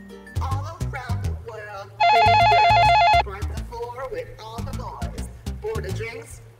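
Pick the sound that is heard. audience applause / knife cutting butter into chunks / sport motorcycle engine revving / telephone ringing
telephone ringing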